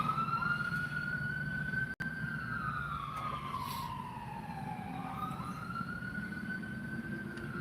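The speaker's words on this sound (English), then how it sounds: "There goes the siren." A wailing siren rises and falls slowly, heard at moderate distance over a steady low rumble of traffic, continuing throughout.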